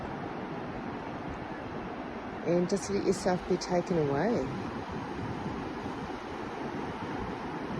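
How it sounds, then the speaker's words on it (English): Ocean waves washing onto a beach make a steady, broad rushing wash throughout, with a person speaking softly over it for a few seconds in the middle. "Tune into the sound of the ocean"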